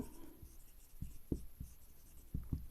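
Pen writing on paper during a math lesson, close and faint, a scattering of short scratchy strokes in small irregular bursts.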